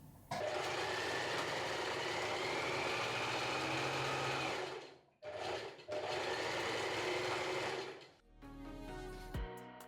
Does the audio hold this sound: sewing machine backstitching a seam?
yes